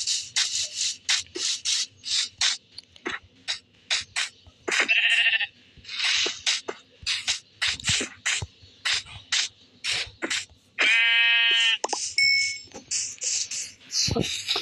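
A goat bleats in Minecraft, two distinct wavering cries several seconds apart amid a busy run of sharp clicks and taps from gameplay.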